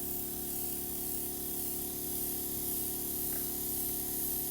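Blue food colouring is airbrushed over the top of a cake, a steady, even hiss of spray that runs the whole time without a break and without any talk.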